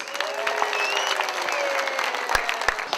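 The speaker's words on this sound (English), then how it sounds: "Let's give them a very warm applause." A crowd applauds steadily at an anniversary celebration, dense clapping filling the space with a few sharper claps standing out near the end.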